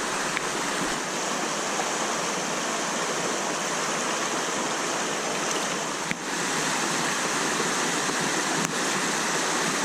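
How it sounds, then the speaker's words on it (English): Rain pours down beside a small wild trout stream in Vermont during a thunderstorm, a dense, steady hiss of falling drops and rushing water that holds at an even level throughout. "So the rain's definitely coming down."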